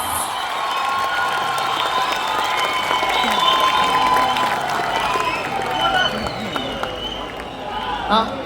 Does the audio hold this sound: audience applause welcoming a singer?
yes